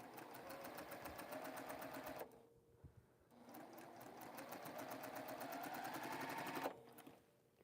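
An embroidery machine runs in long continuous stretches of rapid, even needle chatter, close and steady, pausing twice briefly before resuming; no talk is heard.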